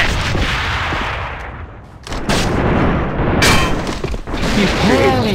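A grenade explosion in the video game AVA comes as a loud booming blast amid surrounding gunfire and battle noise, with brief quieter gaps between heavy impacts.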